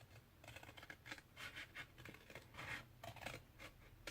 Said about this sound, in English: just carefully trim along and cut out your triangle shapes again